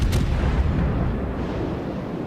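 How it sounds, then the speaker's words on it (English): A naval gun salvo fires in World of Warships, a heavy, booming roar that begins with a sharp crack and then rumbles on loudly and densely with no voices. "Fires another salvo."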